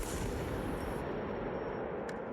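Lightning plasma cannon firing its capacitor charge into a target: a loud, broadband explosive blast and crackling roar that fills the whole clip, then tails off with a faint later crack.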